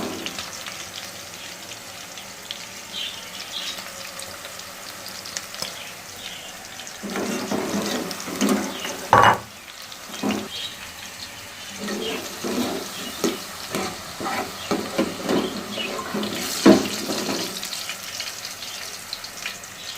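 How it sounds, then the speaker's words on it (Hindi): Onions browning in ghee in a pan, after okra has been fried in the same fat for a bhindi masala. A steady sizzle and frying hiss runs throughout, with louder bursts and clatters as the pan is stirred, and no talk. "अब इसी घी में मैं प्याज को ब्राउन कर लूँगी।"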